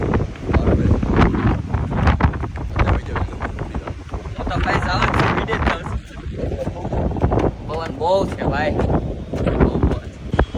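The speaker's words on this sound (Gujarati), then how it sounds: "પવન એવો આવે છે" Strong wind buffets the microphone in loud rumbling gusts, with people talking over it.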